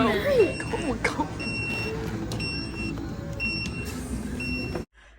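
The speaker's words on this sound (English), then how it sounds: "our buzzer had rang and we all went to get the pizza" A pizza restaurant's order buzzer beeps in short, evenly spaced electronic pulses, about once a second, over steady crowd chatter and dining-room noise, then stops abruptly as the clip cuts to near silence.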